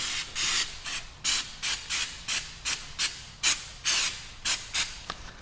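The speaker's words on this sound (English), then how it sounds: "Basically spray it onto here and wait." Goof Off paint stripper sprayed from an aerosol can onto the back of a Samsung Galaxy S9 Plus phone, a dozen short, close hissing bursts in a steady quick rhythm, with no voices.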